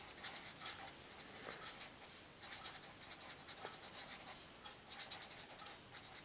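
Marker or chalk writing on a board during a calculus lesson, with steady scratchy strokes in short bursts and brief pauses, close and fairly quiet, no talking.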